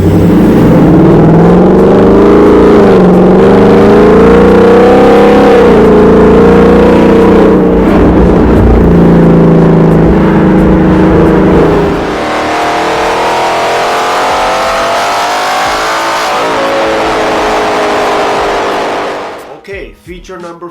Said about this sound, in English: Active exhaust, really nice feature.